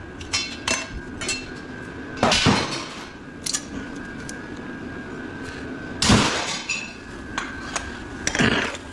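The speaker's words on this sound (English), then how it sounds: "Let's see what the old air chisel do" An old pneumatic air chisel hammers on a welder during a teardown, giving several loud, rough bursts of rattling metal impact with short gaps between them and a faint steady hum underneath.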